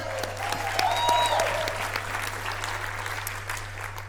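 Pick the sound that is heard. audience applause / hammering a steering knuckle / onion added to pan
audience applause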